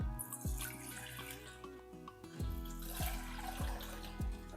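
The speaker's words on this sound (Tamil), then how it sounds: "கால் கிலோவுக்கு இந்த டம்ளரில் ரெண்டு டம்ளர் அளவுக்கு தண்ணி ஊற்றிக்கலாம்" Water poured from a tumbler onto flattened rice (aval) for a sweet aval kesari, making a close, splashy pour broken by a few sharp knocks and clunks of the vessel.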